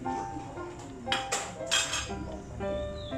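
A metal utensil nudges catfish pieces around in a pot of boiling bamboo shoot curry, making soft scraping and clinking sounds against the pot. The simmering bubbles on underneath, close and moderately loud, with no talking.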